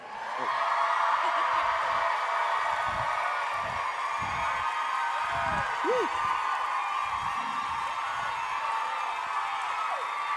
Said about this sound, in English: Please help me bring to the stage with a humongous round of applause